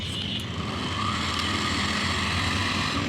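A Swaraj tractor engine drones loud and steady as it strains to haul a loaded trolley through a field, a continuous rough rumble with no pauses.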